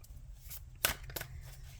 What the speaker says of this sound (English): just so I'm not sitting here all day just shuffling cards on camera